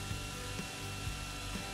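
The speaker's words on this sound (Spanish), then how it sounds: "Yo lo estoy haciendo con una lijadora de banda." Belt sander running steadily over wooden slats for a wooden dish-drying rack, a continuous close abrasive whir with faint irregular ticks as the wood is smoothed and beveled.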